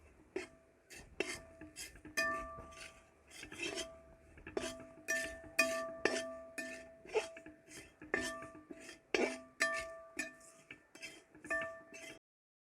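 A spoon scrapes and clinks against a pan while spices for a Kerala-style pork fry are stirred, with rhythmic strokes repeating steadily and no voices over them.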